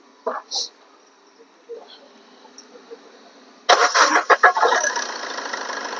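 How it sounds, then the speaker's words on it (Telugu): A used car's engine cranks and catches at about the midpoint, then settles into a loud, steady running sound after a few brief knocks and clicks near the start. "ఒకసారి బండి స్టార్ట్ చేసి మీకు చూపిస్తా"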